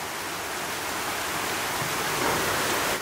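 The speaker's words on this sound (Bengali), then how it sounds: "এত জোরে বৃষ্টি আসছে, মসজিদে আটকা খেয়ে আছে" Heavy rain falls steadily outside a home during a downpour, a dense continuous hiss that stays even and loud throughout with no voices.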